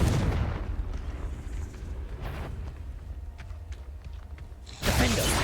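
A Confringo blasting spell explodes in the video game Hogwarts Legacy, roaring out at the start with a loud booming burst, fading into rumbling clatter, then erupting again in a second heavy blast near the end.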